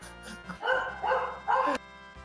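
A deep, chunky dog bark from a Final Fantasy battle, three or four loud yelping woofs in a quick run over a low droning game music bed.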